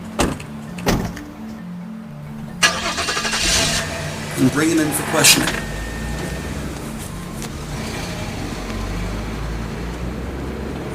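A police squad car door thuds, its engine starts and the car pulls away at moderate volume in a radio drama scene, with a narrator speaking over the sounds.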